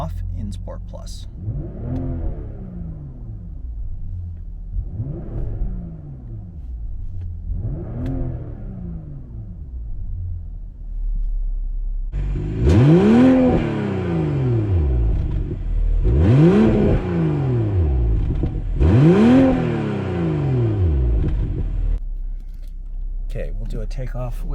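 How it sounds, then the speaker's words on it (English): A 2023 BMW M340i LCI in Sport Plus with Iconic Sounds switched off, revved in place: three moderate engine blips, then three louder, sharper rev bursts, each rising and falling, with a steady idle underneath. "Free rev with them off in Sport Plus."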